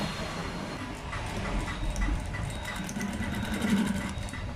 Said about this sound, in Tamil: பாருங்க, நான் தைக்கிறேன் பாருங்கள்.